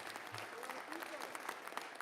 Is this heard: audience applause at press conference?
yes